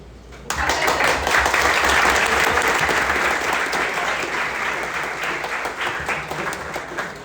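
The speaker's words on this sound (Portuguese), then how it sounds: "salva de palmas pra eles." Sustained audience applause breaks out after a short quiet moment at a hackathon onboarding event, a dense wash of many hands clapping that stays loud and steady before slowly thinning toward the end.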